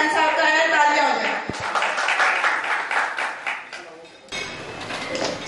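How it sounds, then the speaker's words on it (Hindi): An audience applauds at a cable network award show in Lahore, a dense clatter of clapping that swells then thins, with a voice speaking over it in the first seconds. "लाहौर में सबसे अच्छा डिजिटल यूनिट आशिक हुसैन साहब का है। तालियां हो जाए।"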